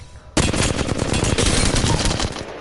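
Rapid automatic gunfire from a console shooter on PlayStation 4 starts abruptly after a brief quiet moment, then rattles on as a dense, loud, continuous burst with no talking over it.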